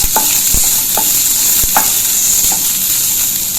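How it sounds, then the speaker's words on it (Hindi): Vegetables and onion stir-frying in a pan for veg spring rolls, a steady loud sizzle broken by several sharp scrapes and knocks of the spatula against the pan. "अब हम डालेंगे प्याज। इसको भी हमें हल्का हल्का भूनना है।"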